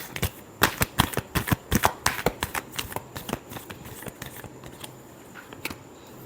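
Tarot cards are shuffled close by in a rapid run of crisp flicks that grows softer and sparser toward the end.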